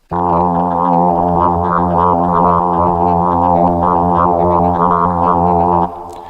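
A sustained FM synthesizer patch with rich, buzzy harmonics and a gently wavering, vowel-like movement holds for several seconds, then cuts off abruptly.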